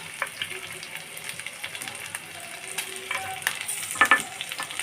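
Ginger-garlic paste, green chillies and peas frying in a pan, a soft steady sizzle with scattered pops and crackles and a few brief scraping stirs, fairly quiet and close.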